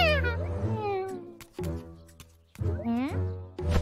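An animated cat character gives a drawn-out, voice-acted meow and then a second rising one, with a character talking between them.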